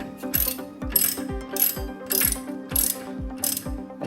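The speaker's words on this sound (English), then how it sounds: "I am just going to be threading on until there's no gap" A ratchet wrench with a 22mm socket threads a nut onto a KYB Quick Strut car suspension strut, making close, crisp bursts of clicking that repeat about twice a second.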